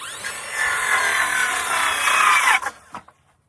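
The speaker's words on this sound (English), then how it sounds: "I got my cordless Makita saw" A cordless Makita saw cuts steadily through wood for about two and a half seconds at close range, then stops, with a few clunks as the piece drops and the blade winds down.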